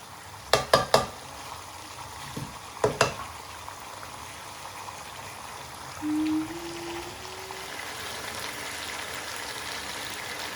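Masala fish curry cooking in a pan, a soft steady bubbling sizzle with a few sharp clinks of a spoon against the pan early on, fairly quiet and without talk.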